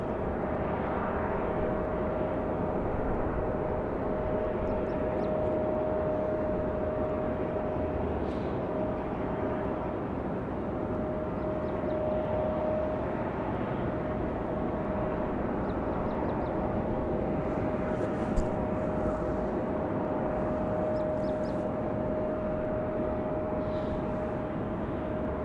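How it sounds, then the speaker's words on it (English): A Pilatus PC-12 turboprop arriving at Raleigh-Durham International Airport is heard as a steady distant engine drone with a faint whine, unchanging and continuous throughout. "Let's get this Pilatus PC-12 in"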